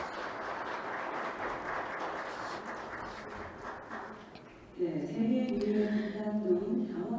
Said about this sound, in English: Once again, a big round of applause to the minister.